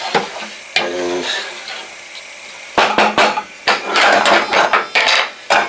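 Lid set on a pot of rice being brought to the boil, heard as a sharp metallic clank, then a run of clattering knocks and scrapes of metal against the pot, loud and close without speech.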